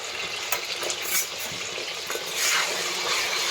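Indian gooseberries (amla) sizzle and fry steadily in hot oil for pickle, with occasional stirring scrapes in the pan; close and continuous with no talking.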